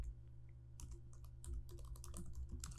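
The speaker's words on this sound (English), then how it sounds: "I will click there and type the name of the project." Rapid keystrokes on a computer keyboard as a project name is typed, a quiet, close run of clicky taps after a short pause.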